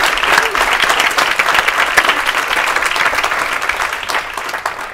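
A TEDx audience in Johannesburg at an art salon gives loud, sustained applause, a dense crowd of clapping hands close and continuous throughout.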